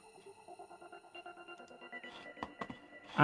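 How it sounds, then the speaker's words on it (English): A gated arpeggiator synth pulses in a steady rhythmic pattern of short repeated notes, growing busier with a few sharper hits toward the end. "this is some sort of like gated ARP sound"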